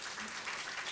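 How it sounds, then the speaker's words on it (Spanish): A church congregation at a Sunday worship service breaks into brief, dense applause for a first-time visitor. "Ya aplausos, ¿sí?"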